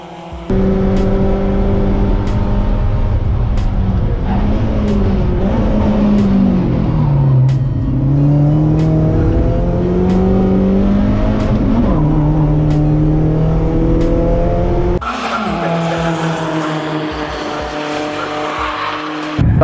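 A BMW Z3 race car sliding sideways at Snetterton, its engine droning loud and steady as the revs sweep up and down, with tyre scrub underneath and a sharper change in tone near the end.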